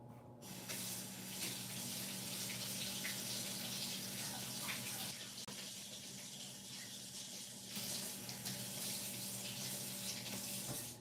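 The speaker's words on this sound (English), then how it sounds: "I'm going to rinse the spoon I was using." Tap water runs steadily from a kitchen faucet as a spoon is rinsed, a constant close splashing hiss that carries on without a break and with no talk over it.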